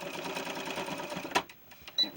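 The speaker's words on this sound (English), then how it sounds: "let's top stitch just to stay stitch this edge to keep it together" A sewing machine stay-stitches the edge of a small doll's Peter Pan collar blouse, whirring in a close, steady run of rapid stitches that stops abruptly, followed by a couple of brief clicks.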